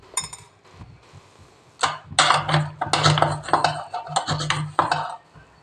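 Spoonful of whole black pepper tipped into a dry pan on the stove for roasting, giving a few light clinks and scrapes of metal, then a busier stretch of rattling grains and utensil contact, close and moderately loud.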